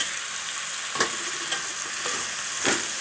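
A spoon scrapes and stirs bottle gourd pieces with turmeric, chili and ginger-garlic paste in a sizzling pan. Four spaced strokes sound over a constant close frying hiss, and no one speaks.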